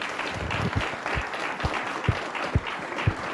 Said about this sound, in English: Could I get everyone to give a big round of applause to our panelists for tonight?